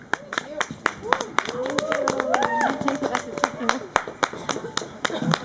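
A small audience at an informal evening talk in a garden venue claps in sparse, distinct, uneven hits, while a voice talks continuously underneath.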